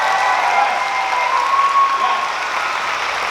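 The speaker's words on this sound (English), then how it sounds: "Give us a nice round of applause for this." A full, sustained round of applause from the crowd at a school graduation ceremony, a thick even wash of clapping that holds steady throughout, with a faint tone sounding above it.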